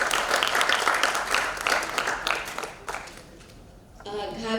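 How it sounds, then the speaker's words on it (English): Audience applause at a conference book launch fills the first few seconds, then fades out as a voice begins speaking. "Kindly welcome ma'am with a big round of applause."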